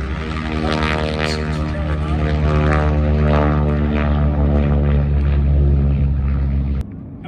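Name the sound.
racing propeller airplane passing at air races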